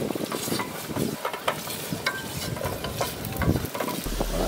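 Ginger sautés in a little cooking oil in a pan on a stove, giving a continuous noisy sizzle with small crackles and light clinks of utensils throughout.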